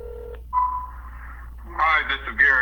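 An auto-dialer places a call, giving a steady tone then a warbling, shifting series of electronic phone signals that rise in loudness toward the end, heard alone.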